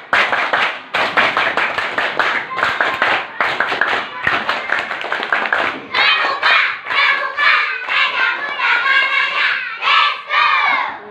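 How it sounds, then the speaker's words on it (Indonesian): Elementary school children perform a scout clapping chant in a classroom, rhythmic group claps blending into loud shouted chanting in unison, energetic and close. "Coba anak-anak tepuk pramuka, bisa?"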